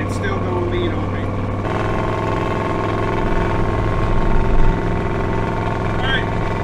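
A car engine fitted with a Holley Sniper EFI system, held at full throttle and running lean, drones loudly and steadily throughout with a constant rich hum.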